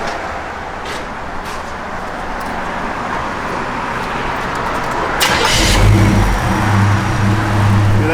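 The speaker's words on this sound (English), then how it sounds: "Hear that thing fire up, man?" A 1963 Ford F100 pickup truck's engine cranks and fires up, the rumbling roar swelling partway through and settling into a loud, steady idle close by.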